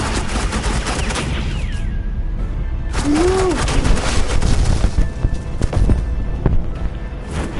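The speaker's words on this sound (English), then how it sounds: "suppressing fire." Rapid suppressing gunfire in a Batman video game, dense continuous bursts of loud automatic shots with sharp cracks and booms, interrupted briefly by a short pause, with game sound effects layered over it.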